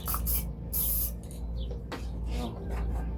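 Aerosol paint sprayed onto a small wood or metal workshop piece, two loud close hissing bursts with short pauses between, among faint handling clicks and rustles.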